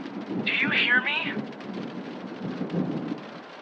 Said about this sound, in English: Just wait until the storm ends.